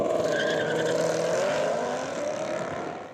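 Drag racing cars at Tucson Dragway roar loudly and continuously, engines howling with a steady high whine that shifts slightly in pitch as they run down the strip.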